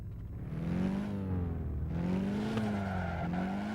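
A car engine revs in an indie racing video game, its pitch rising and falling over steady tire squeal, loud and continuous throughout.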